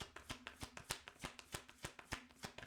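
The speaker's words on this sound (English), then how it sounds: "Let me shuffle." Tarot cards are shuffled by hand in a steady rhythm of soft, crisp slaps and riffles, quiet and close, with no voices.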